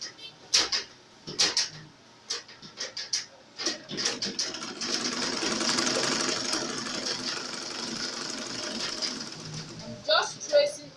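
A sewing machine stitches along the sides of a basic skirt. Short clicks and bursts start the run, then a steady whirring stretch of stitching follows, and it ends in more clicks and brief stops.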